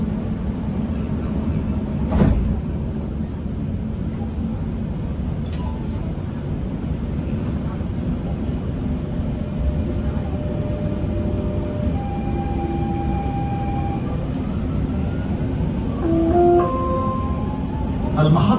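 Dubai Metro train running along the line, a steady low rumble and hum from inside the car with faint tonal whines rising near the end, no talk.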